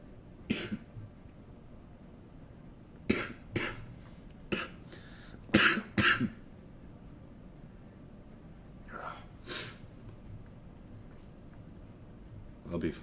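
A person coughing in repeated short, harsh bursts, some in quick pairs, spaced irregularly over quiet background hiss; close to the microphone, with faint breathy sounds between.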